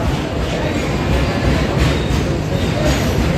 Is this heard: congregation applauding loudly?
no